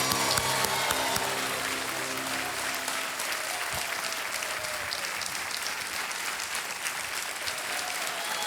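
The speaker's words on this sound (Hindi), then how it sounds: "तालियां बजती रहें" Sustained studio audience applause on a televised quiz show, a dense steady clapping that fills the whole stretch at full strength, with faint music tones under the opening seconds and no speech.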